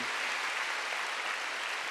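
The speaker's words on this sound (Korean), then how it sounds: "빨리 박수하세요" A church congregation at a Wednesday worship service claps together in a dense, continuous burst of applause, loud and steady throughout with no break.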